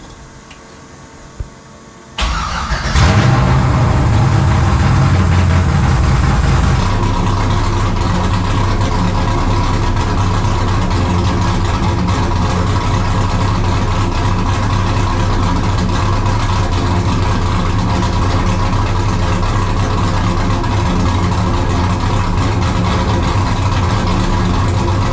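A Chevy Silverado truck engine with a Holley fuel system cranks and fires up, then settles into a loud, steady idle that runs on alone for over twenty seconds.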